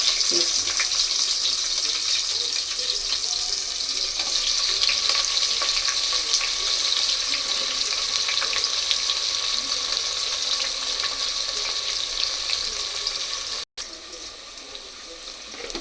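Chopped large onions fry in a pan as chicken biryani is being made, giving a steady, dense sizzle with faint crackles that keeps going throughout, with one brief dropout near the end.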